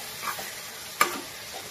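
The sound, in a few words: stirring chilli powder into sizzling ridge gourd curry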